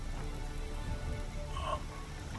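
Steady rain pattering in the Skyrim video game around Falkreath, a soft continuous wash of drops with no talk and a few brighter splashes partway through.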